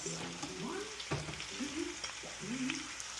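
Chicken feet for adobo fry in olive oil with a close, continuous crackling sizzle, with a few sharper pops and stirs scattered through.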